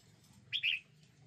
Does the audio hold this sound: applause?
no